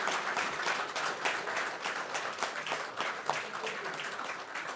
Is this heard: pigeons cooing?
no